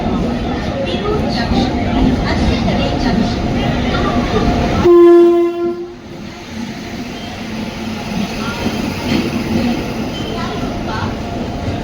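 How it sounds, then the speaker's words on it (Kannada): An intercity superfast express with LHB coaches rumbles into platform 1 on the Talaguppa–Bengaluru route, and a loud horn blast rings out for about a second midway before the rolling noise settles back. "ಇವಾಗ ನಮ್ಮ ಟ್ರೈನ್ ಎಂಟ್ರಾ ಇದೆ ಪ್ಲ್ಯಾಟ್ಫಾರ್ಮ್ ನಂಬರ್ 1ಗೆ"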